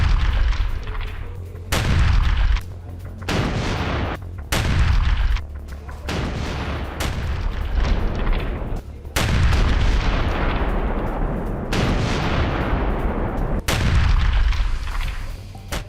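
War footage from Kherson of Ukrainian forces striking a Russian tank: a series of about eight loud, heavy booms and blasts of artillery fire and explosions, spaced a second or two apart, with rumbling between them and no talk.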